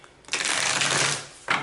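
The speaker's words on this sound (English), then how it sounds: "That was a really good shuffle." Tarot cards being shuffled, a dense riffling burst lasting about a second followed by a short second flutter, close and fairly loud, with no talking.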